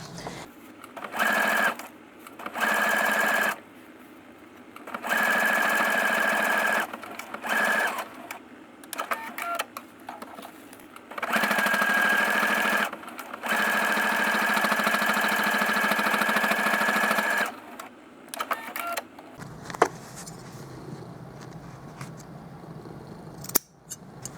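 A sewing machine stitches a zipper pouch made from a placemat, its motor whirring in loud bursts of several seconds separated by short pauses, with a few clicks and snips toward the end.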